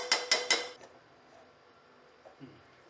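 Cooked lentils are strained in metal kitchenware, opening with three sharp, ringing metallic clanks close together, then a quiet stretch with a few soft knocks and scrapes.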